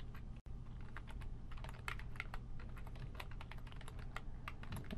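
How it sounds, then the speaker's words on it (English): Computer keyboard being typed on to enter a password at a server login, a steady run of close, crisp key clicks lasting throughout with one brief dropout near the start. "And type in our password again."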